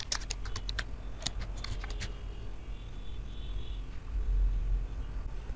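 Computer keyboard keys being typed in a quick burst of clicks early on, then sparse taps over a steady low hum, while a Facebook page username is entered.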